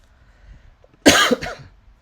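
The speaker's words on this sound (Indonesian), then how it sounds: "saya lagi batuk" A single sharp cough, close and loud, breaks a quiet room and fades within half a second.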